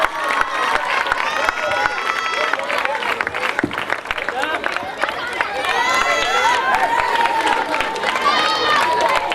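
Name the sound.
crowd applause for cricket best bowler prize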